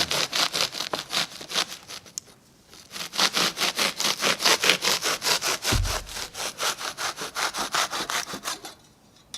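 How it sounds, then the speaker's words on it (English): A hand saw cuts through the foam core of a hollow door in quick, rhythmic back-and-forth strokes, loud and close, with a brief pause partway through. "Not going to take much to cut off some foam."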